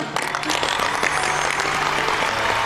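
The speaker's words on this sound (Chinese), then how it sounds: "来，给你们俩鼓掌。" Audience applause at a Chinese television relationship show, a dense, steady patter of many hands clapping together at close range, running throughout without a break.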